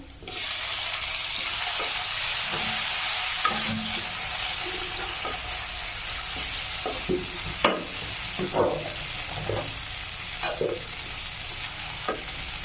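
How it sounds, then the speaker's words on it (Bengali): Tomatoes being stirred into frying ginger and spices in a pan for chana masala, with a steady sizzle throughout and scattered scraping and clinking of the spoon against the pan. "এবার আমি টমেটো মিক্সড করবো।"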